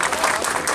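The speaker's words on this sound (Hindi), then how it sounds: "ताली भी बजाइए" Brief burst of audience applause at a party workers' gathering in Mithila, Bihar, a dense patter of many hands clapping for under a second.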